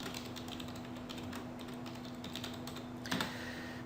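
Steady clicking of keys typed on a computer keyboard, continuous and fairly close over a low electrical hum, with a slightly louder burst of keystrokes near the end.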